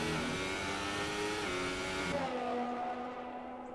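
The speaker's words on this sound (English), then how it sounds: "He's really hitting those revs." An F1 car's engine revs hard through the gears at the United States Grand Prix in an Xbox racing game. The loud, steady whine holds high, then its pitch shifts and drops as it moves to another gear.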